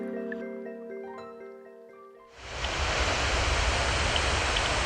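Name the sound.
waterfall on the São Francisco River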